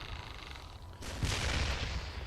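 A robot fires its main weapon in the video game Damnation, a sudden loud burst of broadband blast noise that starts about a second in and rolls on as a sustained roar to the end.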